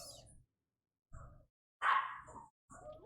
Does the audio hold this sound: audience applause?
no